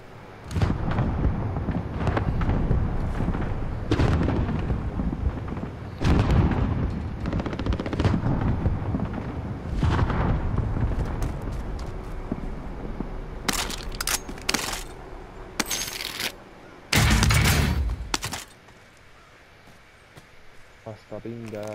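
Bursts of automatic and single-shot gunfire from a weapon in Call of Duty: Modern Warfare, loud and close, repeating in clusters with short pauses, under a voice speaking Spanish.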